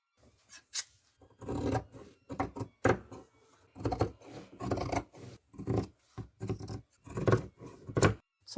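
Scissors snip through denim fabric pieces cut from old jeans, giving a series of irregular, crisp crunching cuts with short pauses and occasional fabric rustle, close by and without speech.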